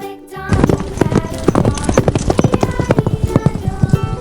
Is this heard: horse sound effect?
yes